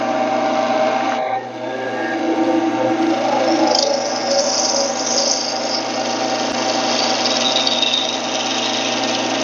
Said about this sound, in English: Now let's kick on the lathe, and you can see the skew cutting in action.